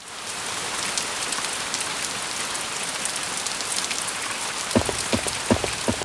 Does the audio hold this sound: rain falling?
yes